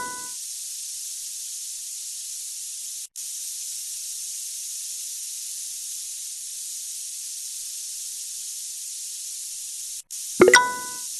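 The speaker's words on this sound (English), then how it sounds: "Pick up the spray from the stand and paint the" Spray machine painting in an industrial confined-space safety training simulation: a steady, loud hiss of spraying runs almost unbroken, with two brief gaps, followed by a short plopping clatter near the end.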